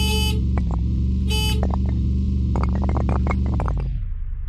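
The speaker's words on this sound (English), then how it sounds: "Honk." A car horn honks in a video game, with repeated short horn blasts and beeping tones layered over a steady low engine drone, no voices.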